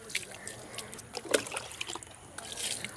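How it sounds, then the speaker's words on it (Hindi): Water trickles and splashes over a motorcycle chain being rinsed after cleaning, an uneven close dribble with small spatters. "अब इसे हमें सिंपली वाटर से धो देना है।"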